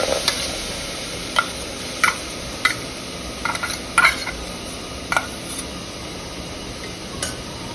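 Minced mutton keema is spooned into a pressure cooker, producing a series of short scraping, clattering hits spaced about a second apart over a steady background hiss. The sounds are close and there is no talking.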